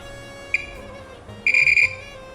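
A multimeter on continuity test beeps while probing an Atem Mini Pro circuit board: one short, sharp tone, then a longer, louder beep that stutters for about half a second, over a quiet background.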